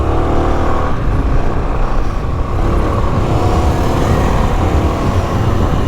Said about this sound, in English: I mean, it is a dirt bike.